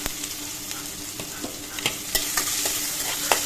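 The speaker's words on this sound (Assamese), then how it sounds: "সেই তেলতে গোটা জিৰা দি দিছোঁ কেইটামান পিঁয়াজ দিছোঁ অলপ" Whole cumin and onions fry in hot oil for a fish and bottle gourd curry, giving a steady close sizzle broken by scattered sharp crackles and stirring clicks, with no voices.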